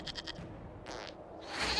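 A goat bleats in the video game Dragon Age Inquisition, a short wavering cry in the middle of the clip, with faint rhythmic game sounds before and no speech.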